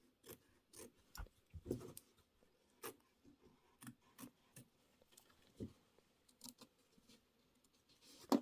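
Scissors trim the edges of a small quilt block in quiet, sparse snips, each a short crisp cut separated by pauses, close and alone with no talking.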